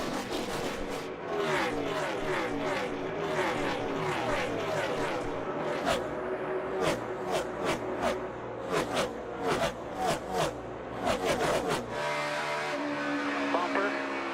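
NASCAR stock cars race in the 2017 Kobalt 400, their loud engines roaring past in quick successive pass-bys. A steady droning roar runs underneath, with faint voices mixed in.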